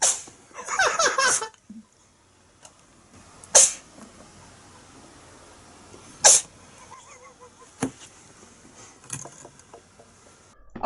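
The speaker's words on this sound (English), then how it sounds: "My cat keeps sneezing." A pet cat sneezes several times indoors, sharp isolated bursts spaced a few seconds apart, the first a longer noisy fit, with quiet room sound between.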